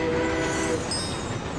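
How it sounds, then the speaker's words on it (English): Fast train rushing past in the Train Conductor World video game, a brief steady rumbling whoosh with a thin high whistle-like tone near the end, no talking. "Oh, there's a fast train. Way faster than a normal train."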